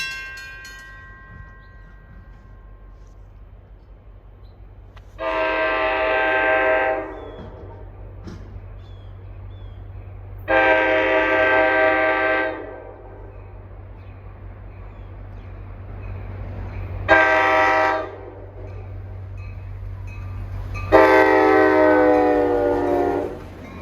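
NJ Transit heritage GP40 diesel locomotive deadheading from Ridgewood on the main line: a steady low engine rumble under four long, loud horn blasts, the last pair closer together and strongest, with no voices.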